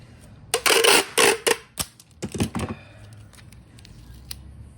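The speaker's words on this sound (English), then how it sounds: "let me put the tape on it real quick and we'll continue the process" Strips of tape pulled and torn, then pressed onto a Samsung tablet during a screen replacement, heard as several loud ripping bursts followed by softer rubbing and crinkling.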